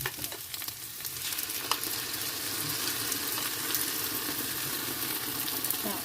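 Fried rice cubes sizzle hard in a pan with onions and eggs, a steady loud hiss and crackle with occasional scrapes from stirring.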